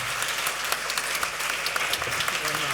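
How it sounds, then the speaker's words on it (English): Audience applause closes a Silent Listen session with sound recordist Chris Watson, a steady dense wash of many hands clapping at moderate level with a faint voice beneath it. "Big round of applause."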